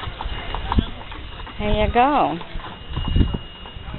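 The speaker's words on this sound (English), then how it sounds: "Oh, here's the horses going for a ride." Horses' hooves clip-clop during a wagon ride at a sawmill site, a rhythmic clatter heard under nearby conversation, with a horse's whinny-like call rising in the middle.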